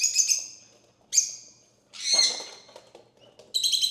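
Quail give a few short, sharp chirping calls in bursts while eating from a hand, close and clear with quiet gaps between calls.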